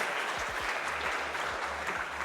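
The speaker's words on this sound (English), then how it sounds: "Can we please give Harper a round of applause?" Dense, continuous applause from a crowd, a steady wash of clapping with no pauses.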